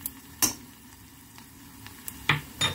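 Garlic sautéing in a pan, a faint steady sizzle broken by occasional clicks and taps of a utensil against the pan, with no talking.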